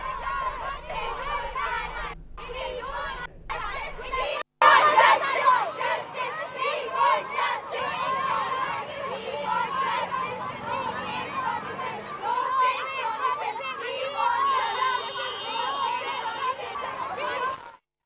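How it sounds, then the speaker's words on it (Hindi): Crowd of schoolgirls protesting along a human chain in the streets of Patna, a dense, steady din of many young voices chattering and shouting together, loud and continuous throughout. "स्कूली छात्राएं पटना में जगह जगह पर प्रदर्शन कर रही हैं।"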